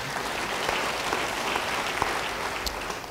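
A church congregation during a sermon claps together in a dense, even burst of applause that carries on steadily with a few sharper claps standing out.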